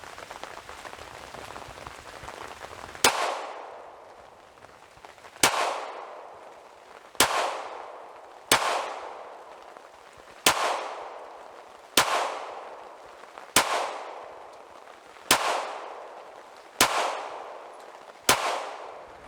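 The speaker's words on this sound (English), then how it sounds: "So that was the 48." Nine sharp gunshots from a Glock 48 pistol crack out at a slow, fairly even pace outdoors, each with a short ringing decay, with no talking between shots.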